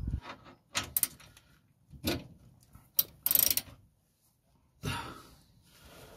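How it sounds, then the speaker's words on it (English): A ratchet, with a bar added for leverage, works tight bolts on the broken rear spring of a Ford Transit camper van, heard as several short bursts of clicking separated by quiet pauses. "we're going to put a bar on the ratchet just for a little bit more leverage"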